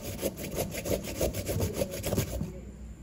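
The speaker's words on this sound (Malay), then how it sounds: "so parutlah sehingga kita dapat 2 cawan" A hand grater scrapes pumpkin flesh in quick, steady back-and-forth strokes, close and rhythmic, about a dozen rasping passes before slowing to a stop.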